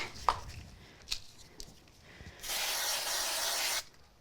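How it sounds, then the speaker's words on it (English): A steady spray of aerosol glue hisses for about a second and a half, close and loud, after a few soft handling taps and rustles during card-making. "going to give it a quick spray"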